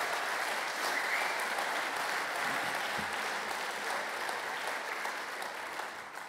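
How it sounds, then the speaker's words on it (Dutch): Sustained applause from a large crowd at a PvdA party congress, steady dense clapping that fills the whole stretch and tapers slightly near the end. "een warm applaus geven"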